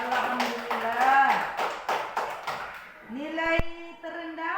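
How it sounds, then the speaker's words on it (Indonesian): Classroom students clap their hands in quick, rhythmic bursts while a voice speaks over them, followed by more talking after the clapping dies down. "Tepuk tangan"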